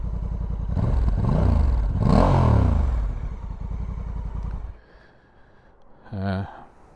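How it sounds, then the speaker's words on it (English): A 2024 Honda Africa Twin DCT ES adventure motorcycle revs through its exhaust with deep, rising and falling blips up close, ending in a short final throttle burst after a pause; someone talks over the engine. "Nice sound, really nice coming out of that exhaust."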